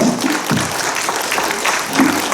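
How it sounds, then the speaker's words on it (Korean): Applause from the audience after a Korean lecture on Bucheon's history and place names, a steady, fairly loud clatter of clapping with faint voices mixed in. "다시 한번 큰 박수 부탁드립니다."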